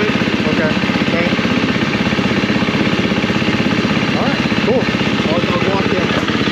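A KTM 350 dirt bike engine idles with a steady, rapid pulsing chug, loud and close throughout, with a brief rise near the end.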